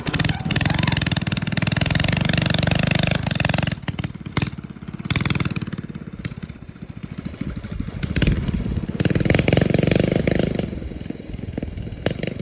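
A Predator 212cc go-kart engine idles at low throttle, a rough, loud, chattering putter that fluctuates and dips briefly before picking back up.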